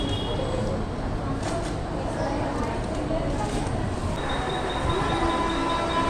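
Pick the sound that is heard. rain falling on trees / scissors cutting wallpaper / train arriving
train arriving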